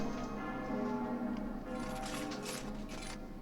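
A bell rings in a video game during a siege on Camelot, a sustained metallic ringing with a faint mechanical clatter beneath it, holding steady for a few seconds.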